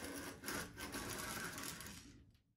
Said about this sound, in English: I'm ready to drill the holes.